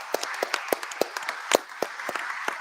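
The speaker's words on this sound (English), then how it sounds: "please give a round of applause to Christian" A small startup demo day audience gives sparse, close claps, a handful of distinct hand strikes spaced irregularly rather than a full ovation.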